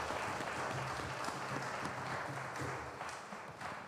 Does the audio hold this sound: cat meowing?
no